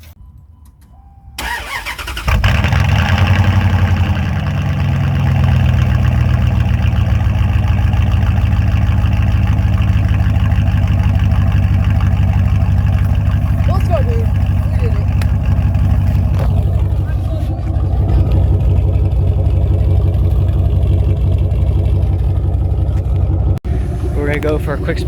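A car engine cranks and starts, then idles and revs steadily and loudly with a newly finished exhaust, its deep rumble continuing close by for the whole stretch and briefly cutting out near the end.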